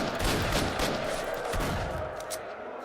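Dense, loud bursts of overlapping automatic gunfire in the shooter S.T.A.L.K.E.R. Shadow of Chernobyl, a continuous rattling fusillade that thins out toward the end.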